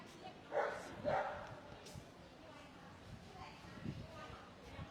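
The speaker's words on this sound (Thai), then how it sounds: "สุนัขที่เราเห็นนะก็มาจากหลากหลายทีมอันนี้ทีมใหญ่ก็จะเป็นทีมจากสุนัขเคนาย" A K9 search and rescue dog at a collapsed building in Chatuchak, Bangkok, gives two short barks followed by fainter yips over quiet background noise with voices.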